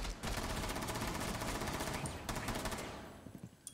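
Rapid automatic gunfire from the video game Rainbow Six Siege, a loud dense burst of shots running for a few seconds before cutting off into scattered fainter cracks.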